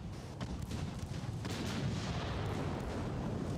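Naval secondary guns on armored cruisers firing in a battleship combat game, a dense rumbling barrage of overlapping booms with sharper reports standing out, continuous and moderately loud.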